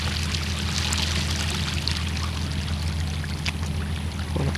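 Rising tide water at Saint-Malo starts flowing over a submerged passage, a steady rushing, pouring wash close by, with a constant low rumble beneath and no voices.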